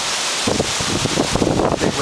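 Strong wind during Hurricane Sandy roars and buffets the microphone in loud, continuous gusts near the shore, with someone speaking under the noise.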